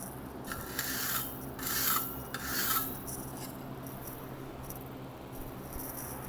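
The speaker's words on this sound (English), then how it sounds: "We're just going to put a margin trowel." A margin trowel scrapes and smooths fresh concrete on a slotted headstone base made for a marble tablet, giving a few soft rasping strokes near the start, then a steady low gritty rub.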